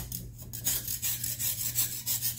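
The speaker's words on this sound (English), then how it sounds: "So I'm going to scrape all of the drumstick" Steady, rhythmic scraping of the skin off a fresh moringa drumstick with a knife, close and fairly loud, repeated light strokes in a regular back-and-forth pattern.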